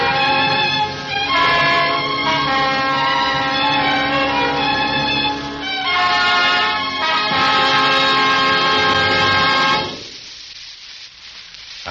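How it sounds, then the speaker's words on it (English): A foghorn sound effect in an old radio drama, loud sustained droning blasts with a brief dip between them, cutting off abruptly near the end to near silence. "Don't wonder that you hate the sound of foghorns, Letty Taylor."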